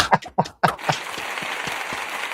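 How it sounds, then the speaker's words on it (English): Canned applause fired from a soundboard button during a Raiders fan podcast, a steady wash of crowd clapping that follows a few brief bursts of talk and holds at moderate level to the end. "Cheeto, hit me with that applause button."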